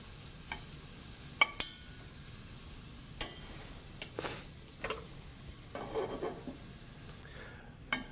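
Vegetables soften gently in whole butter over low heat for a fish stock, a soft, quiet sizzle broken by scattered stirring clicks and scrapes of a utensil against the pan.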